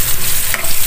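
Garlic, onion and tomato sizzling and frying in a pan while a spoon stirs, a loud, close, continuous crackle with scraping.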